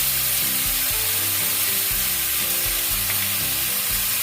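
Eggplant stir-fried in a pan with mushroom sauce and soybean paste, a steady close hiss of frying broken by a regular rhythm of low scraping stirs, with no talk.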